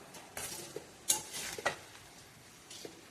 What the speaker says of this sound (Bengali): এখন এটাকে একটু সময় কষানো হবে